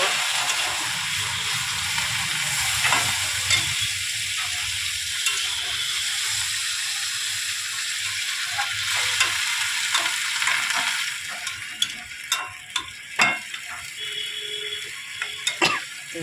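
Fish curry with flat beans and potatoes sizzles steadily in a pan, a continuous close frying hiss with occasional brief clinks of stirring, and no voices.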